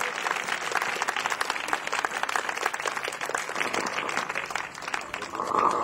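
Congregation applauding during a church sermon: continuous, moderately distant clapping from a crowd, steady and fairly even, rising a little at the very end.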